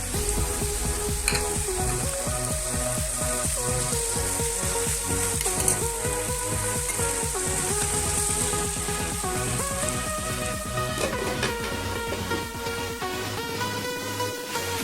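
Chickpeas (boot) fry steadily in a pan, giving a continuous broadband sizzle that runs the whole time beneath prominent melodic background music.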